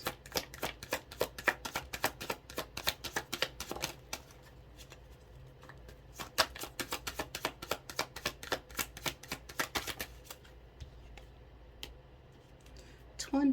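Oracle cards shuffled in rapid, crisp riffling bursts, a dense run of papery snaps, a short lull, then more quick shuffling close to the microphone.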